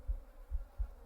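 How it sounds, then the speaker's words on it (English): A fly buzzing in the horror adventure game The Excavation of Hob's Barrow, a low droning hum that swells in three soft pulses close by over a quiet, murky background. "This fly is buzzing around down here."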